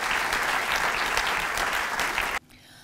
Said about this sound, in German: Herzliche Gratulation und ganz einen grossen Applaus.